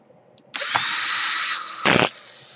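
A power screwdriver drives a screw into an Asus G53JW laptop during a power jack repair, one steady whirring run of about a second and a half ending in a louder short burst as it seats, close and alone.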